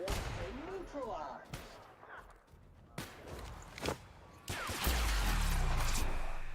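Weapon fire aimed at an outlaw sniper in The Outer Worlds video game: several sharp, loud shots spread unevenly among lighter crackles and game ambience, closing with a heavier, sustained blast.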